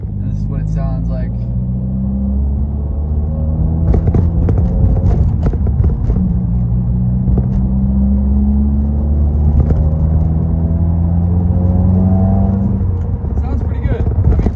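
A Subaru WRX with stage 2 mods drives along, its engine droning and rising in pitch through the gears with exhaust rumble, steady and close inside the car, with a few clicks and knocks.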